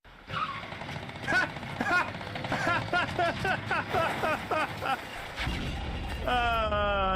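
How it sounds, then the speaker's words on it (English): Machine gun fire aimed at emus in an animated cartoon about the Emu War, heard as rapid repeated bursts under a busy mix of vehicle noise and voices. "You mount the machine gun in the back, I'll chase the emus, you shoot."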